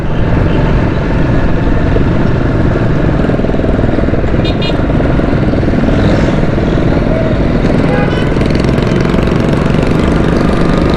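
A motorcycle rides through busy Karachi traffic near the Liaquatabad bridge, its engine droning steadily and loudly with wind and street noise, a few faint horn-like tones in the background.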